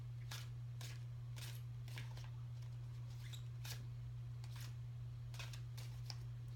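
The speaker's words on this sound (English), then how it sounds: "I just like to shuffle my cards" Tarot cards are shuffled in quiet, brisk riffling bursts, roughly one every half second or so, over a steady low electrical hum.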